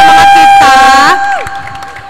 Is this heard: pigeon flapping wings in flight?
no